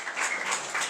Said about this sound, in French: Applaudissez le Seigneur très très fort ce matin.